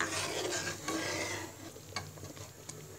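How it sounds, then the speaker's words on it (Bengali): Shahi firni simmering in a pot on the stove over medium heat, stirred with a spoon: continuous close scraping and swishing with soft bubbling, a few sharper clicks of utensil against the pot near the end, no talking. "যতক্ষণ পর্যন্ত আমার ফিরনিটা তৈরি না হচ্ছে ততক্ষণ পর্যন্ত আমি কিছুক্ষণ পরপর নেড়ে দিব"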